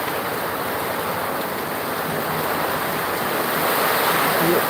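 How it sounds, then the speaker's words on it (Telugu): Heavy rain falls in Velichala, a dense, steady roar close at hand that swells slightly louder toward the end, with no voices over it. "వెల్చాలో అయితే ఇది ఒక భారీ వర్షంగా మనం చెప్పుకోవచ్చు"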